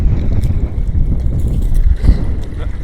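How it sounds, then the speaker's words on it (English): Strong wind buffets the microphone in heavy, rumbling gusts, roaring continuously outdoors near open water at a fishing match. "I couldn't get there with this wind today, as you can probably hear"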